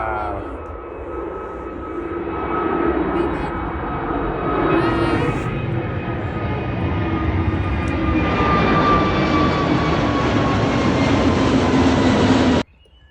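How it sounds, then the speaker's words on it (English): A steady airplane engine roar drones overhead for the whole stretch, loud and continuous, with a voice murmuring faintly underneath before it cuts off abruptly. "Another plane."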